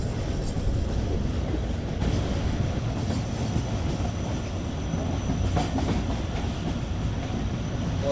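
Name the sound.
passenger train passing through railway station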